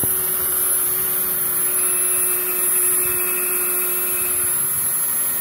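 A power drill grinds steadily into a fidget spinner, giving a continuous high whine with a constant tone and rubbing, scraping noise throughout, without speech.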